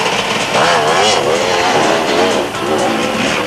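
Two enduro motorcycles, a 250-class KTM and a 200 Kawasaki, race past at a 1995 Winterberg enduro, their loud close two-stroke engines snarling and wavering in pitch as they rev hard, with no talk.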